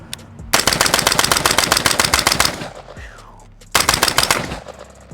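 An AR-15 with a mil-spec trigger fires in a fast, even string of loud outdoor shots for about two seconds, stops briefly, then fires a second rapid burst.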